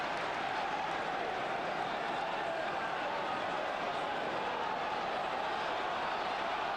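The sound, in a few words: football crowd at Chelsea vs Arsenal urging a player on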